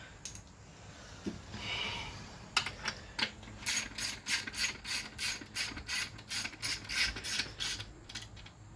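A ratchet wrench tightens bolts on the L98 engine of a 1987 Corvette C4, about a dozen quick rhythmic clicking pulls close up after a few softer tool knocks.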